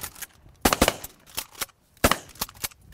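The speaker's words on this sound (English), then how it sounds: "Nice shot on that last one." Shotgun blasts ring out during a duck hunt on Oklahoma waterfowl grounds. Several sharp reports come in quick pairs over about three seconds, loud and close, with fainter echoing cracks between them and no speech.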